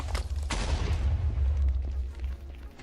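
A deep in-game blast booms while mining for netherite in Minecraft, with a rumbling low roar that carries on for a couple of seconds before fading, loud and close with no talk over it.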